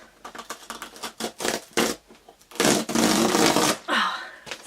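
Cardboard subscription box for April 2018 being opened, with a run of sharp tearing, crinkling and rustling bursts close up, building to a longer loud rip of packaging near the end, with no talking.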